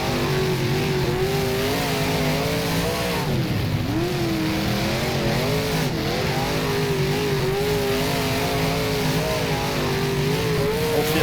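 Big block modified dirt track race car in rFactor at Chowchilla Speedway, its engine roaring loud and steady throughout with rising and falling revs, no talk.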